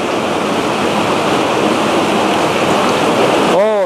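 Heavy rain pouring steadily onto a fish pond, a dense continuous hiss of drops on water, loud and close throughout.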